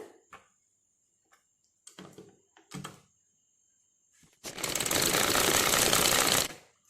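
A sewing machine stitching a blouse patti, with a few short needle taps and bursts before a sustained two-second run of close, loud stitching that winds down at the end.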